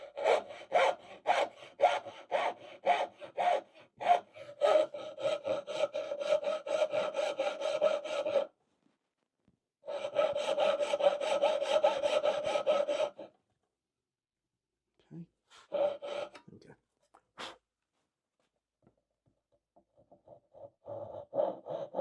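A hand saw cuts dovetails in wood with walnut, rhythmic back-and-forth rasping strokes close up in several bursts separated by pauses, ending with a few lighter, softer strokes.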